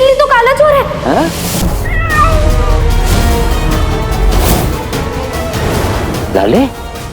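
A cat meows repeatedly in loud rising and falling cries, several close calls spread across the scene, mixed with people talking, background music and scattered clatter from a dramatic television scene.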